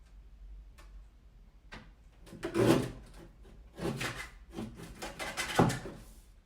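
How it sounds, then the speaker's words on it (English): A guillotine paper trimmer slices off small paper edges, giving soft scraping, rasping strokes and a couple of firmer cutting bursts close by, with quiet gaps between them and no talking. "I'm just using my guillotine trimmer. It's just really nice for slicing off little edges."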